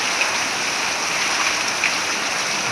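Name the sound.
heavy rain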